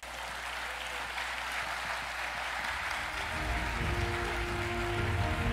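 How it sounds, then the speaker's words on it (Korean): Audience applause at a Sun Moon University ceremony, a steady wash of clapping heard from a distance, joined partway through by low rumbling background noise. "여러분 큰 박수 부탁드립니다"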